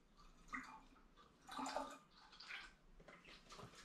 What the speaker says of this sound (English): I'm just going to add a little bit more apple juice, mainly to wash the yeast out of the funnel.